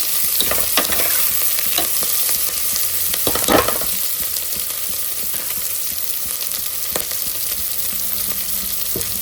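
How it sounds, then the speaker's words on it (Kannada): Steady sizzling of onions frying in a pan, a continuous hiss with occasional scraping stirs and clicks, close and fairly loud, no voices. "ಹಸಿ ವಾಸನೆ ಹೋಗೋ ತನಕ ಈರುಳ್ಳಿ ಫ್ರೈ ಮಾಡ್ತಾರೆ"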